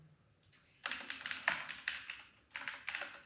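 Bursts of typing on a computer keyboard, rapid close keystroke clatter in several clustered runs with short pauses between them, no talking.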